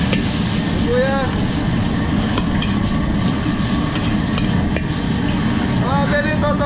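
Garlic and onion sauté in butter in a pan, a steady dense sizzle and frying hiss throughout with occasional stirring scrapes and faint voices in the background.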